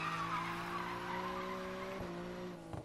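A widebody Nissan Skyline R34 in the racing video game NFS Payback: a sustained, fairly faint whining tire squeal with engine drone, shifting slightly near the end, with no talking.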